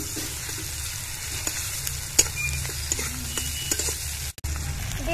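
Ginger garlic paste fries in a pan while a stingray fish dish is being cooked, giving a steady hissing sizzle with small crackles and the occasional scrape of stirring, close and continuous, with no talk.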